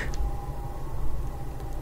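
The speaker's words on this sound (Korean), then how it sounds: "실로 오랜만에 사이렌 소리가" A distant emergency siren wails faintly through a wide-open window of a home, a thin steady tone over low street rumble.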